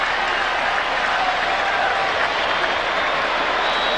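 The crowd at a 1989 NFL game between the Eagles and the Saints in New Orleans applauds in a steady, broad roar, with no break.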